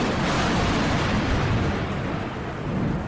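A loud, rolling thunder sound effect rumbles continuously as a storm brews over a ship at sea, deep and sustained.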